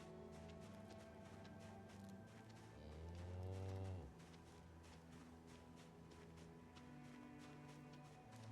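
Cows moo in the zombie survival game Project Zomboid, one long, loud, low bellow standing out over a steady bed of game ambience, with fainter livestock sounds around it.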